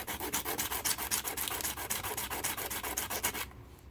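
Rough sandpaper rubbed rapidly back and forth across an Aurora Thunderjet 500 slot car body, a steady run of gritty, rhythmic scraping strokes, close and loud, stopping abruptly near the end.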